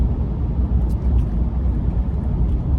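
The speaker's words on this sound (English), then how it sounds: "those log trucks make me nervous." A heavy log truck rumbles past, a loud continuous low engine and road roar that dominates throughout without breaks, with no talking.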